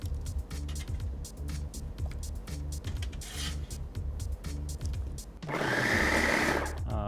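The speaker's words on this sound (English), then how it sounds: "we're gonna really simply put it together into the food processor" A food processor whirs in short rhythmic pulses, blending a reduced sauce with light brown sugar and rice wine vinegar, then runs into a louder continuous grind near the end; no talking.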